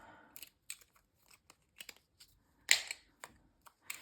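Sharp snips of scissors cutting through a paper strip, a quiet series of close, irregular clicks and crisp cuts with one louder crunchy snip in the middle.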